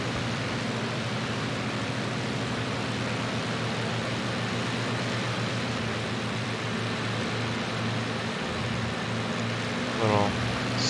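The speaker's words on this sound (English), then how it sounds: "It's my plane in the background." Propeller plane engine in the flight game IL-2 Sturmovik: Battle of Stalingrad, a constant loud droning hum with a steady throb that carries on unbroken for the whole stretch.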